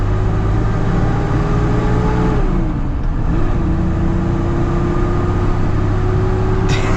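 Mercedes G-Wagon diesel overland build driving on the road, a steady loud engine drone and road rumble throughout, with a brief dip in engine pitch partway through and no talking.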